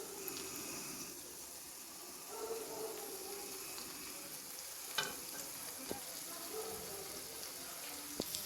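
Half-fried chicken sizzling in masala for a dhaba-style chicken curry, a steady quiet frying hiss with stirring scrapes and a few sharp clicks of the spoon, no talk.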